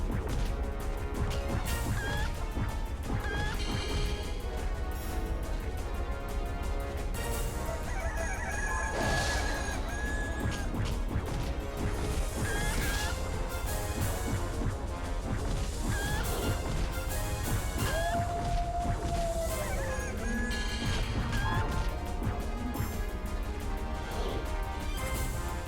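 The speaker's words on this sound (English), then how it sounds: "I have to kill the glowing rooster over here," Game action from the PlayStation 2 Altered Beast: a glowing rooster enemy is fought and killed amid dense, continuous smashing hits, crashes and clucking squawks over steady game sound, loud and busy throughout with no talk.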